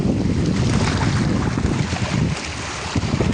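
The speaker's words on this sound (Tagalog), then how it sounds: "Lakas ng hangin." Strong monsoon wind gusting across a pier at Mauban, a loud, continuous roar of buffeting wind noise with water and waves churning underneath, steady throughout with no talk.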